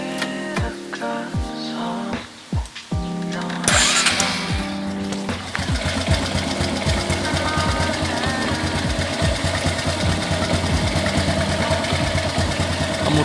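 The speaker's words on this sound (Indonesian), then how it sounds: "Selanjutnya adalah kita nyalakan sepeda motor" A Honda Supra X125 motorcycle engine cranks briefly, catches and settles into a steady, close idle with a fast, even ticking putter that continues without pause.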